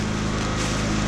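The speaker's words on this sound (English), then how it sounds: "I'm not going to apologize for the mower noise" A steady, droning lawn mower engine runs continuously nearby, loud and unbroken through the short stretch.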